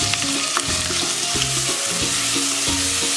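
Cumin, mustard seeds and ginger-garlic-chili paste frying in hot oil for a Khandeshi pumpkin dish, a loud, continuous close sizzle with quick spatters and the scrape of a spoon stirring in the pan.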